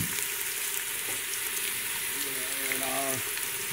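Carrots sizzle in hot olive oil in a soup pot, a steady bright hiss that fills the whole stretch at close range, with a short murmur of a voice partway through.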